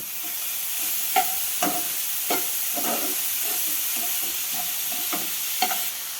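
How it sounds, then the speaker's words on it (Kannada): Grated carrot with spices frying in a pan over a medium flame, a constant close sizzle broken by repeated spatula scrapes and taps at an uneven pace. "ಇದನ್ನೆಲ್ಲ ಮೀಡಿಯಮ್ ಫ್ಲೇಮ್ನಾಗ ಇಟ್ಕೊಂಡ ಅದು ಕ್ಯಾರೆಟಿನ ಹಸಿ ವಾಸನೆ ಹೋಗೋವರೆಗೂ ಸ್ವಲ್ಪ ಫ್ರೈ ಮಾಡ್ಕೋಬೇಕು."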